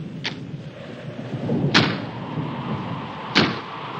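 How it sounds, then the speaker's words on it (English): A door banging in the wind against a house, three separate sharp knocks spaced well apart over a low rumbling background. "That's just the wind banging a door."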